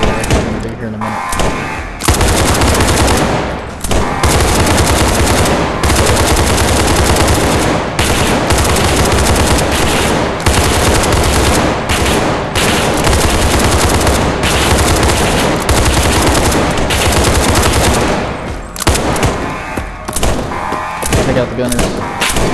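Enemy gunners in the SCP: 5K video game unleash loud, sustained machine gun fire, with bursts and dense rattling gunfire filling nearly the whole stretch and only brief pauses.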